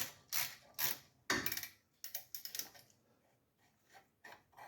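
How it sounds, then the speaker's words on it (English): Wrench ratcheting on brake caliper bolts of a squarebody Chevy truck during a brake job, a few short bursts of clicking followed by faint metallic clinks, close and alone with no talking. "I should be able to take my bolts out of here. And get this caliper off."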